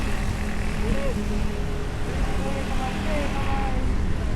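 A motorcycle rides along a long uphill road, its engine drone and wind rush forming a steady, unbroken roar throughout.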